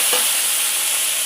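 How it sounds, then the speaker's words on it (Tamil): Two or three mild, non-spicy chillies sizzle in a hot pan and are stirred, a close, steady frying hiss with a faint scrape of stirring, with no talk. "இந்த காரம் இல்லாத மிளகா ஒரு 2-3 போட்டுட்டு ஒரே ஒரு தக்காளி கட் பண்ணிட்டேன்"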